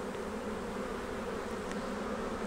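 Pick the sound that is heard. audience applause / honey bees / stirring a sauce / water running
honey bees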